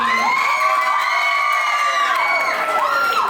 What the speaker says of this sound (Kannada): ಅವ್ರಿಗೂ ಜೋರ ಚಪ್ಪಾಳೆ